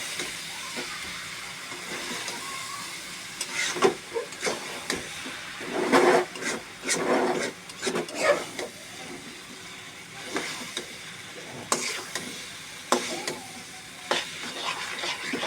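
Boiled noodles being stirred into a fried egg basket in a pan, giving soft sizzling with intermittent scraping and clattering bursts at a moderate distance, with no voice heard.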